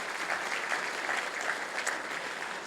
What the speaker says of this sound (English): And now a clap for them.